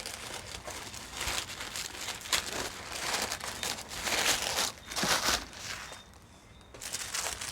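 Tissue paper crinkles and rustles as a sewing subscription box is unpacked. Close, continuous crackling swells in uneven bursts, then briefly quiets near the end.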